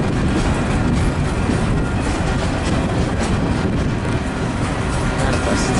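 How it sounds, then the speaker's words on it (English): A Canadian Pacific westbound manifest freight train rolls past close by, a steady loud rumble of wagons and wheels running continuously throughout with no break. "Manifest. Westbound manifest."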